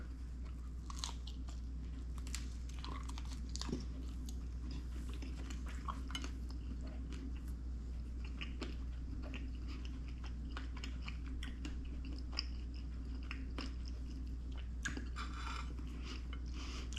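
Close, crisp crunching and chewing of a fried potato, cheese and refried bean snack, with scattered bites and rustles over a steady low background hum.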